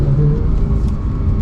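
A 991.2 Porsche 911 GT3 accelerates in a short, loud, steady burst of engine drone and road rumble, heard from inside the cabin.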